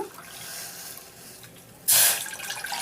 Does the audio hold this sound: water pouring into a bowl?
yes